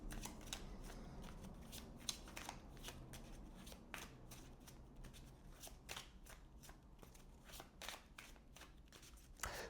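Tarot cards riffled and shuffled by hand for a reading, a long run of crisp, rapid flapping and snapping bursts heard close up with no talking.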